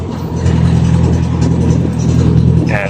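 A newly built Tamiya car on a test drive in Cavite, its engine giving a steady, close, low rumble with a slight rise and fall in revs and no talking.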